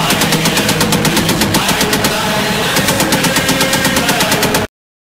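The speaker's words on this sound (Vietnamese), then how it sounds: "It's a machine gun!" Loud, continuous automatic machine-gun fire rattles in rapid, evenly spaced bursts for nearly five seconds, then cuts off abruptly into silence.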